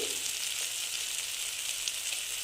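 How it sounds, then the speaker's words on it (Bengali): Potatoes with spices fry in a pan for aloo dum, a steady close hiss of sizzling oil with faint crackles and no talking. "এটা ভেজে নিচ্ছি বন্ধুরা এটা আমি এরকম ভেজে নিলাম"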